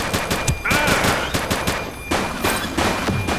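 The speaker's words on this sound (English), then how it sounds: "He's shooting!" Rapid automatic gunfire rattles through a police shootout in the video game The Precinct, with dense repeated bursts of shots, loud and close, continuing steadily with brief pauses.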